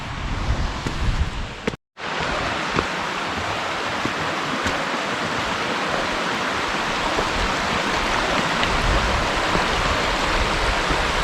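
A small babbling brook along the La Cloche Silhouette Trail in Ontario's mountains, steady broadband rushing and trickling water heard close by, with a brief dropout near the start and then unbroken flow.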